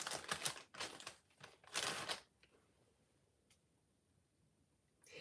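Tape is peeled off the back of a heat transfer key chain in a few quick, crackly rips near the start, followed by quiet handling and a faint tap at the end.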